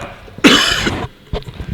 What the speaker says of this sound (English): That's quite a cough